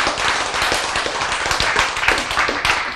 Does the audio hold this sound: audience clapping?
yes